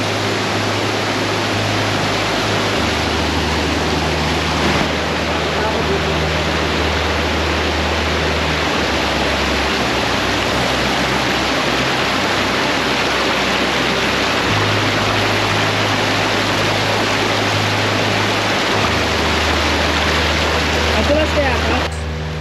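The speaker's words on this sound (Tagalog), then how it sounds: "Ang tubig dito umaagos pababa sa napakatayog na Ambon-Ambon Falls." Water pours down the very tall Ambon-Ambon Falls in Bagac into a small lagoon, a steady, loud, full roar that runs unbroken throughout with a low droning hum beneath it.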